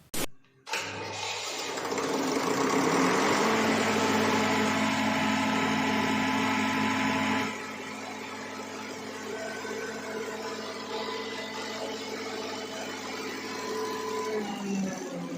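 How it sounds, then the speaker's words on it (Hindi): Greaves 4YDX MK3 diesel engine, just serviced, starts with a sharp burst and then runs at a steady drone that drops to a quieter idle about halfway through. No one talks over it. "इंजन को स्टार्ट कर लेते हैं और देखते हैं परफॉर्मेंस क्या है सर्विसिंग करने के बाद में"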